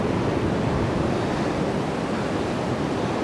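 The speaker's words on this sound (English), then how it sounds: "So the waves are actually, they're picking up quite a bit." Steady, dense roar of hurricane-driven surf and wind at Ocean City, Maryland, constant and loud throughout with no pauses, like standing close to crashing ocean waves on a blustery shore.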